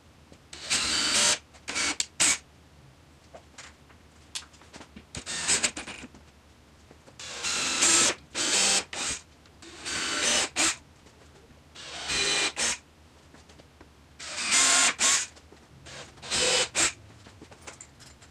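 Power drill driving screws into particle board while building a chemistry fume hood, heard as repeated short whirring bursts of a few seconds each with pauses between, close and fairly loud, with no talking.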